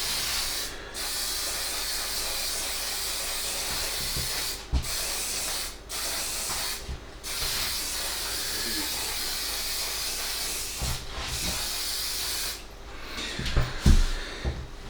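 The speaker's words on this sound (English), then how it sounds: "I'm just going to give it a good spray with hairspray." An aerosol can of hairspray hisses in long, steady bursts over a handmade winter Christmas diorama, close and continuous with several brief pauses between sprays and no talking.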